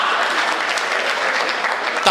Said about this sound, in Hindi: तालियां जल्दी बजा दी